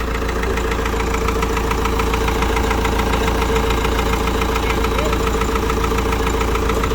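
Compact Kobelco SK045 mini excavator, a newly arrived unit in good condition, idling with a steady low diesel rumble and faint knocking, close and continuous with no talk.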